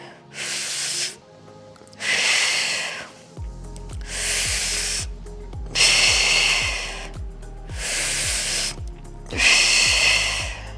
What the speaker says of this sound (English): Now you guys can probably hear me breathing, right?